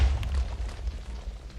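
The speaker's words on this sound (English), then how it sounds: "Why was there explosions?" A deep, booming explosion rolls out loudly, then fades into a low rumbling tail, in modded Minecraft (Crazy Craft).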